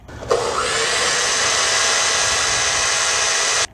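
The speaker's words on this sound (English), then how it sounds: "Then she gets a chainsaw and uses it to cut off some of the plant" A chainsaw cutting plants roars to life abruptly, runs at a steady, harsh whine for about three seconds, then cuts off sharply.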